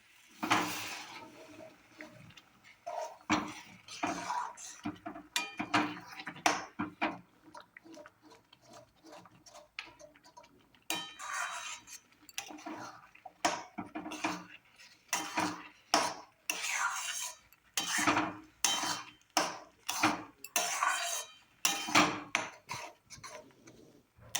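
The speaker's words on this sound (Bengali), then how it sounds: "এবার ভালো করে নেড়ে দেবো।" Pea filling with water stirred in a pan for matar kachori, irregular scraping and knocking of a spatula against the pan in bursts with short pauses, close and clear.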